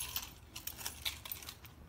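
Metal keys jangle and clink near at hand while a MotoMaster hitch lock is being locked, with bright scattered rattles and one sharper click partway through.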